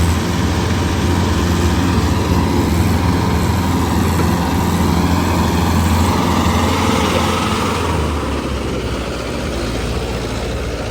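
A tractor engine runs steadily while hauling a trolley loaded with maize, a loud, continuous rumbling drone close by with no voices throughout.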